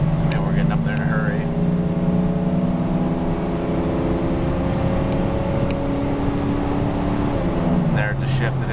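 A vehicle engine accelerates on the highway, its loud drone climbing steadily in pitch and then dropping near the end as the gear changes.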